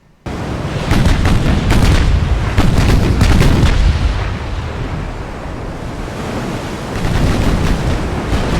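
Brooklyn-class light cruisers fire their naval guns in a fleet battle in the video game Ultimate Admiral Dreadnoughts. Loud booming salvos come in rapid bursts, with heavy rumbling blasts that overlap and decay into a low roar.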